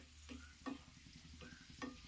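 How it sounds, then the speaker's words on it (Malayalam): Cashews and raisins frying in a pan for payasam, a quiet close sizzle broken by several soft scraping stirs of a spoon at uneven intervals. "കരിഞ്ഞു പോകാതെ അണ്ടിപ്പരിപ്പ് മുന്തിരിങ്ങയും വറുത്തെടുക്കണം കേട്ടോ."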